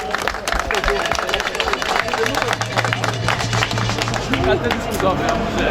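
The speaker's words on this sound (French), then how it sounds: "Je vous demande beaucoup d'applaudissements pour notre consul général." Applause for the consul general at a commemoration event, with dense crowd clapping mixed with murmuring voices and some talk, lively and continuous throughout.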